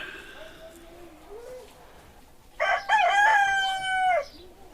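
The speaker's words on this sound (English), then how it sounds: "Supposedly, roosters are supposed to crow at noon, right?" Roosters crow in a loud, drawn-out call near the end, following quieter background sound with faint speech-like murmurs earlier.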